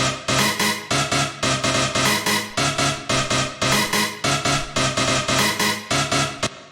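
A hard industrial techno synth stab repeats in a tight, driving pattern. Its loud, harsh, bright hits fire in rapid rhythmic bursts with a brief pause between phrases.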